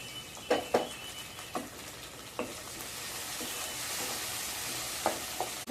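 Curry leaves dropped into hot oil in a pan while making Maggi noodles, a soft continuous sizzle with scattered crackles and pops, fairly quiet and close, with no voices.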